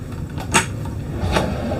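A couple of soft wooden knocks as RV drawers or cabinets are shut, one at the start and another a moment later.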